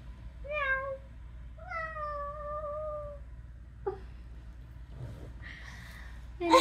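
A cat meows clearly twice in drawn-out, rising-falling cries, close by, followed by soft rustling and a brief higher squeak at the end, with no talk.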